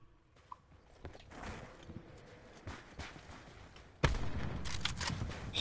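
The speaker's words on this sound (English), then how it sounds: "did you just shoot?" Gunfire in Call of Duty Black Ops 4: faint, scattered shots and soft footstep-like clatter at first, then a sudden louder burst of denser firing in the final seconds.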